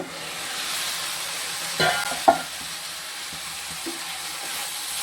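Ridge gourd pieces with rock salt sizzle and simmer in a pan, a steady soft crackle with a couple of louder stirring scrapes and clanks near the start.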